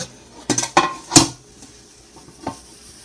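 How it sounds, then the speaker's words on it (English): A metal cooking pot being cleaned after making pelau, with a few sharp knocks and scraping clatters close by, then a softer clink near the end and no talking. "Just take the sponge and you just clean."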